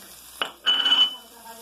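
Chopped onion hitting a hot pan for feijão tropeiro, a short clunk followed by a brief bright sizzle that quickly fades, with no talk.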